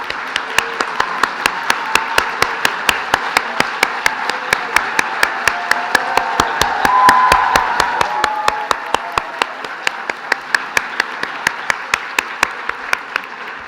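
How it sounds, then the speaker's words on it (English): A crowd at a graduation ceremony applauds steadily for the whole stretch, swelling slightly in the middle, with sharp, evenly spaced claps standing out above the general clapping. "we should really now give a round of applause"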